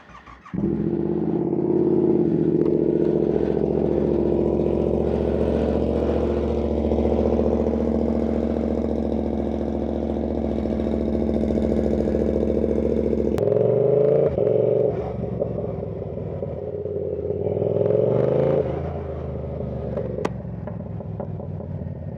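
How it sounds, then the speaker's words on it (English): A Yamaha R7 motorcycle with a loud exhaust rumbles close by with a deep, throaty idle, then blips and revs with a crackling burble before easing back, no voices over it. "Can you hear that exhaust? It's fucking ruthless."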